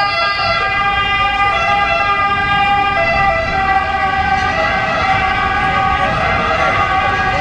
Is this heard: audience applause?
no